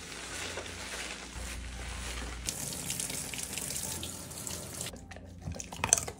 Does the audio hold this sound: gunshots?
no